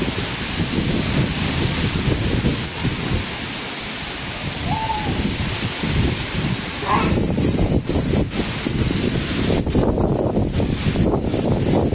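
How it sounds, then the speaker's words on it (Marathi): Strong monsoon wind roars across a Konkan roadside in driving rain, a dense, continuous rush of gusts buffeting the microphone, loud and close throughout. "वारा मरणाचं आहे,"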